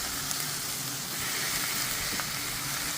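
Chicken samosa filling with soy sauce cooks over a high flame, giving a dense, loud, continuous sizzle with occasional stirring scrapes, close up and without talk.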